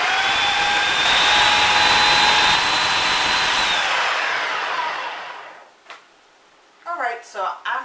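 A food processor blends falafel mixture with a loud, whining motor hum close by. The hum holds steady for several seconds, then winds down to silence, and a person starts speaking afterward.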